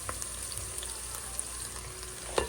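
Ginger sizzling and frying in hot annatto oil for a chicken sotanghon soup, a steady close hiss with light stirring and a clack near the end.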